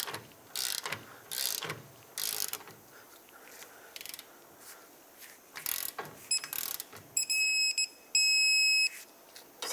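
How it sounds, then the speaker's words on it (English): Torque wrench tightening a rear strut bolt to 73 foot-pounds on a 2007-2010 Chrysler Sebring, with a series of sharp ratcheting clicks and a few bursts, then repeated electronic beeps from the wrench near the end, no talking. "Now let's torque this to 73 foot-pounds."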